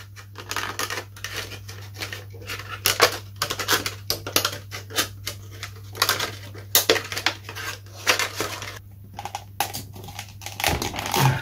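Cutting the back off a molded part during Mantis autogyro construction, a steady run of short sharp snipping and crackling clicks, close and fairly loud over a low constant hum, with no talk.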